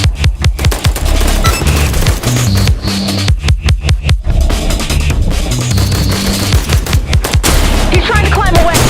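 Shotgun and other gunfire in the video game I am Your Beast, a loud, nearly continuous barrage of sharp overlapping blasts and bursts with a few brief gaps.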